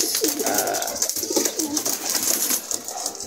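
Racing pigeons cooing close by, soft repeated throaty coos with light rustling and bird calls around them.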